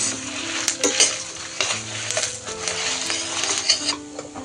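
Curry leaves fry in hot oil with a crackling sizzle, joined by a spoon scraping and clinking against the pan in short repeated strokes, close by with no talking.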